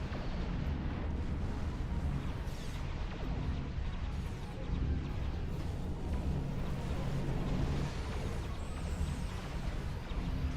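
A torpedo hit in a Star Trek video game gives a loud, sustained rumbling explosion, a dense roar of blast and debris lasting several seconds with little variation.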